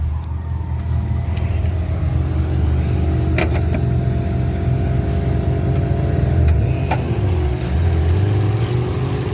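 An Abarth 500 engine idles after hard autocross runs, a steady close mid-pitched hum with a couple of brief sharp clicks, no talking over it.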